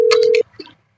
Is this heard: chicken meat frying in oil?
no